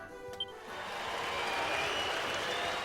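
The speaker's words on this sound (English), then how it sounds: "I could not hear you over the noise of the crowd" Crowd noise in the video game Dragon Quest XI swells into a steady applause-like roar that holds at a constant level after a brief quieter start.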